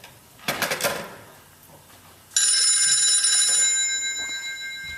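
A telephone bell rings loudly on a stage set during a CCS Theatre Arts Dept. production of Man of the House, sounding as a sustained bright ring that starts midway and continues to the end after a brief earlier burst of noise.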